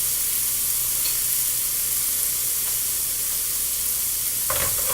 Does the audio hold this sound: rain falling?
no